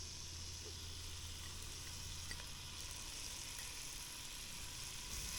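Celery, garlic and onion sizzle steadily in olive oil for a squid ragu sauce, a constant close frying hiss with a low hum underneath and no talking.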